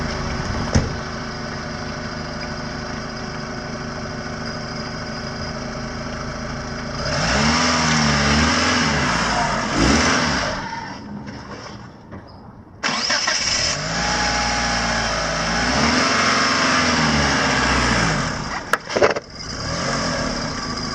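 Mitsubishi Galant VR4 with all-wheel drive revving hard as it climbs onto low oil-change ramps, a loud close engine that surges in two long bursts with a sharp drop between and brief pauses, no talking.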